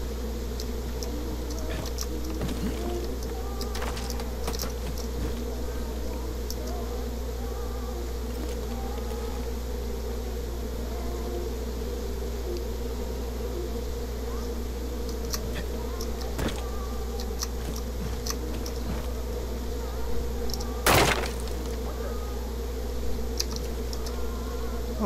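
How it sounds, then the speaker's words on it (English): A swarm of bees in the video game Far Cry 5 gives a steady, low buzzing drone throughout, with scattered clicks and a brief sharp noise near the end. "Oh shit, there's bees everywhere in here."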